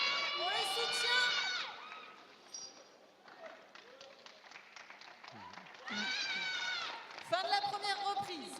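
Spectators at a fencing final cheer and clap for the fencers, with shrill shouts and whistling voices rising over scattered applause. The crowd noise surges loudly at the start and end and drops to a quieter murmur in between.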